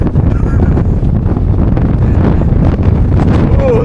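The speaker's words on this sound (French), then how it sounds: "Il y a beaucoup de vent, Sacha." Strong wind buffeting a handheld camera microphone at sunrise over Marseille, a loud, continuous roaring rumble with gusty swells throughout.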